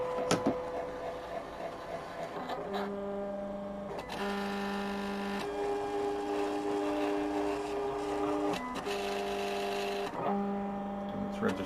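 A Silhouette Portrait cutting machine runs through its registration and blade cut, giving a buzzing motor whine with steady tonal hums that stop and restart in segments, close and steady, with no talking over it.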